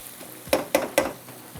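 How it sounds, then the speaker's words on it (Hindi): Masala for beef pulao frying in a pan, a steady low sizzle broken by three quick stirring scrapes close by. "चूल्हा जला के फिर आपने थोड़ा सा इसको फ्राई करना है, यहाँ देखिए, हल्का सा मसाले को आपने फ्राई करना है इस तरह से।"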